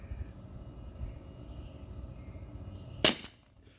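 A single sharp shot from an Umarex H&K VP9 T4E .43 caliber pistol cracks near the end, briefly loud against quiet background hum, then quickly fades.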